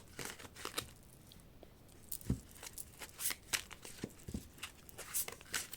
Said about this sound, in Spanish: Voy a barajar.